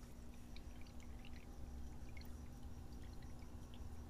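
Water running steadily through the overflow of a 40-gallon reef frag tank with a sump and refugium, a soft continuous trickle and pour with faint drips over a low, constant pump hum.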